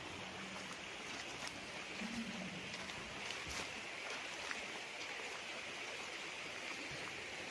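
A small stream runs through a farm lot in Liliw, Laguna, a continuous soft rushing and burbling of water heard steadily and fairly close, with no talking.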